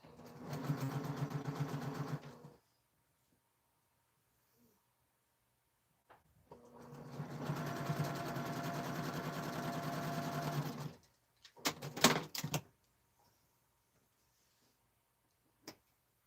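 A sewing machine stitches pieces of a jelly-roll quilt in two long steady runs of fast mechanical whirring, separated by a pause, followed by a few short bursts and clicks; no talking.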